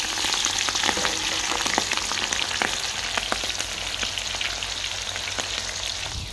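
Onion and green chili fry in a pan for an Assamese vegetable dish, with a steady loud sizzle and crackle throughout and sharp pops scattered across it.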